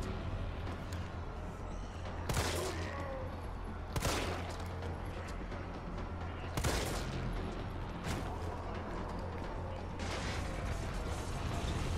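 Gunfire aimed at enemies in the Resident Evil 3 video game: several sharp, broadband shots spaced a second or two apart, heard over a dense, constant low background of game ambience and mechanical noise, all fairly quiet.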